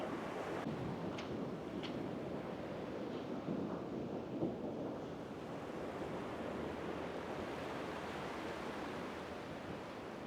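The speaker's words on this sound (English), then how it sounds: "Water's rushing out to sea," River water rushes out to sea across a beach at Trevaunance Cove, St Agnes, a steady, fairly faint broadband roar of flowing water and surf with a few brief splashes, no voices.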